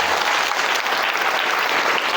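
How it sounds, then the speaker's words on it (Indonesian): Audience at a motivational seminar for education students in Metro, Lampung, applauding steadily, a dense wash of many hands clapping at even loudness for a couple of seconds, with no voice over it. "Tepuk tangan untuk kita semua."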